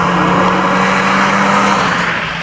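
A Ford Fiesta engine droning steadily while driving on a B road, with a rally-car-like buzzing note that holds loud and close throughout, without any talk.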